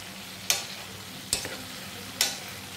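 Amla pickle mixture stirred in hot oil, three sharp spoon scrapes evenly spaced over a low steady sizzle, close by, with no voices.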